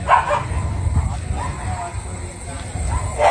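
Stray dogs packed inside a vehicle bark and yelp in bursts, close and loud, with someone speaking over them.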